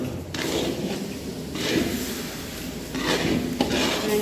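Steady stirring and scraping of amla laddu mixture in a metal pan, with soft clinks of a spoon against the pan and low rustling texture throughout, no talk.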